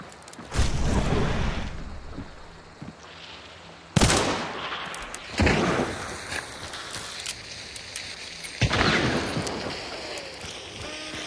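Several loud gunshots ring out at irregular intervals, each a sharp crack with a ringing tail, over a dull outdoor background with no talk.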